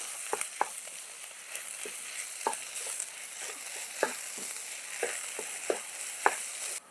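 Egg and spinach thoran stirred in a frying pan, a steady soft sizzle broken by irregular scraping taps of the spatula against the pan, close up with no talking.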